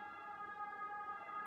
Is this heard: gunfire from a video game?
no